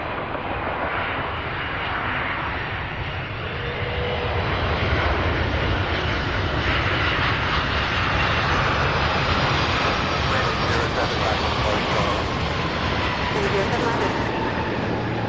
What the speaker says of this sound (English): What a nice landing.